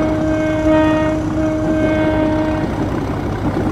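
A train shunting in a rail yard sounds two long, loud horn blasts close by, separated by a short gap, over a steady rumbling background.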